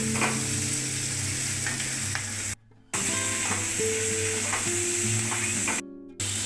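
Capsicum and chopped tomato fry in a pan with a steady, close sizzle and occasional stirring scrapes, broken by two brief silent gaps.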